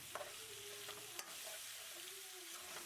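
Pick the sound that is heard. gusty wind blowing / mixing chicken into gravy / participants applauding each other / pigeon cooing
mixing chicken into gravy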